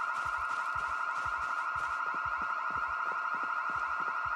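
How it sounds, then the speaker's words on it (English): Two overlapping car alarms sound in the Project Zomboid video game, a constant shrill wavering tone over a regular low pulsing beat that keeps going for several seconds with no voices. "It sounds like 2 different alarms."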